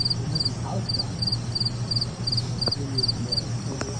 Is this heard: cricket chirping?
yes